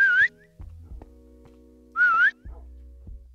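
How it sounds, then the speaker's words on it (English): A dog whistle blown in the Minecraft Doggy Talents mod: two short, shrill, rising whistle tones about two seconds apart, with quiet game sounds and low thumps between them. "you can blow the whistle and they will come to you"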